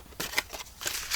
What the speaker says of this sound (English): I need to cut some flowers out.